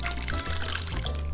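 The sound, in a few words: pouring pollo asado marinade into a bag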